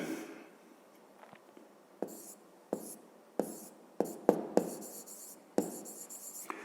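Pen or pencil writing notes on paper, close and quiet, with scratchy strokes and soft taps as words are written, short pauses between bursts and no talking.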